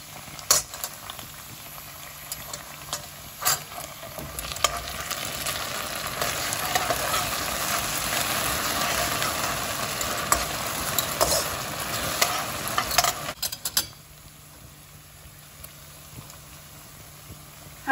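Onions sizzle and crackle in a hot pan as a utensil stirs and scrapes, loud and steady, then the frying quiets near the end.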